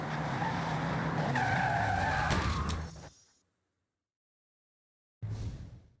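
A car in Forza Horizon brakes hard to a full stop with a loud, sustained tire skid that fades out into silence, followed by a brief burst of engine sound.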